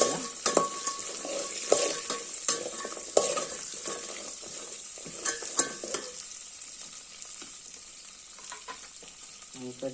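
Jackfruit seeds sautéing in a pan over a tempering of mustard seeds and cumin give a close, steady sizzle, with a spoon scraping and clinking against the pan in irregular strokes, then the sizzle trails off into quieter rattling.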